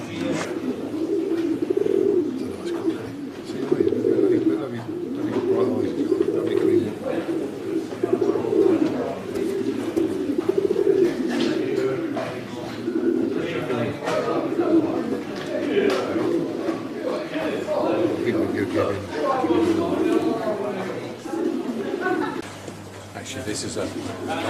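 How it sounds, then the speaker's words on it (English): Pigeons coo in a low, steady murmur at a racing pigeon show, heard continuously beneath people chatting nearby. "Actually, this is a nice pigeon."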